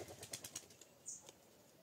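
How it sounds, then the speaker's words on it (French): A pigeon taking off outdoors, a quick series of close wing flaps fluttering for under a second, then a faint chirp-like squeak and a final flap before quiet. "Et il y a un pigeon qui vient de s'envoler."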